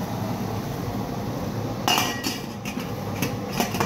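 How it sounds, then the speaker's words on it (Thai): A metal lid is set down on a cooking pot holding three black crabs: a sharp clink around the middle, then a few lighter rattles and taps over a steady low kitchen hum. "เราก็จะปิดฝาไว้นะครับ"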